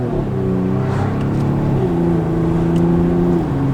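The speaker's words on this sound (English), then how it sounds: "Gonna get a little acceleration here." A 2019 Mercedes GLE 43 AMG SUV accelerating, its engine making a loud, steady drone that climbs in pitch, then drops briefly at a gear change before rising again.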